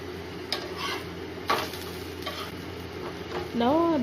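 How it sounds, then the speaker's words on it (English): Jackfruit dosa fries in a pan with a soft, continuous sizzle, broken by a few sharp taps and scrapes of a utensil against the pan, ending in a brief whistling tone. "we will fry the dosa from both sides"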